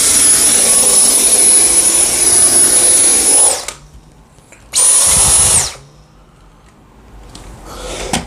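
A Dyson V10 Motorhead cordless vacuum cleaning stairs and picking up pet hair roars with a loud, high-pitched motor whine for several seconds, cuts out, then returns in a shorter burst before near silence.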